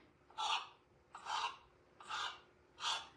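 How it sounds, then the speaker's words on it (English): Knife cutting slits about an inch apart into Reuben braid dough: four evenly spaced soft rasping strokes, close and quiet, with no talking. "I'm going to take this knife and I'm going to make cuts about 1 inch apart."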